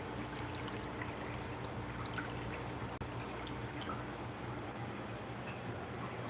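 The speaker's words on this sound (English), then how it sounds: "the bubbles in this room make more noise than the pump" Air bubbling steadily through a fish room's central air loop, a continuous watery fizz and trickle with tiny pops, quiet and close, with one brief click partway through.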